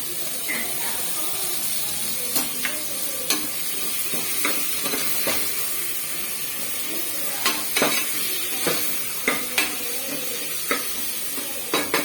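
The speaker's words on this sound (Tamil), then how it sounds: "தக்காளி போட்டு இது மேல உப்பு போட்டா கொஞ்சம் உப்பு போட்டா நல்லா வதங்கிடும்." Tomatoes with salt sizzle and sauté in a pan while being stirred for a vegetable biryani, a steady soft frying hiss broken by scattered scraping and clinking strokes of the spoon, close but fairly quiet.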